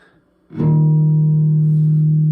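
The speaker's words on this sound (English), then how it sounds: "Another way to do it is to do what they call natural harmonics" A single bass guitar natural harmonic rings out softly plucked, a clear sustained tone that holds steady and bright for about two seconds, alone.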